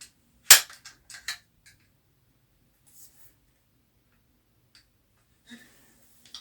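A BB gun fires Gamo lead BBs into a backstop, giving one sharp, loud crack followed by a couple of smaller ticks, then near silence with faint rustles at the end.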